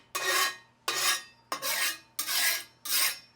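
A spatula scrapes across an oiled grill pan in five evenly spaced rasping strokes, each a short gritty swipe, close and clear with no talking.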